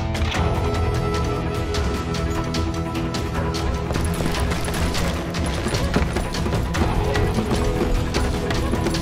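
Horse hooves clip-clop steadily in the Western shooter game Call of Juarez Gunslinger, a continuous galloping patter under dense, loud game sound and music.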